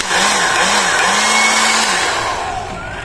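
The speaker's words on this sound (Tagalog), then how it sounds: "itong ating portable na DT Rock na blower ay fix po yung kanyang lakas" A portable 2-in-1 cordless DT Rock air blower rated at 18,000 RPM runs steadily at close range, giving a loud, continuous whooshing roar with a slight wavering motor whine throughout, and no one speaks.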